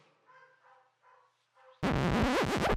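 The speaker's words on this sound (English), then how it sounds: "there is Pod barking" A dog gives a few faint whiny yelps in a quiet room, then a sudden loud, harsh, distorted bark.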